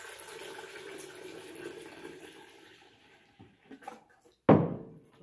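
Water is poured into a container to mix with bleach for homemade disinfecting wipes. A faint, drawn-out watery rush is followed by a short, louder splash near the end, with no talking.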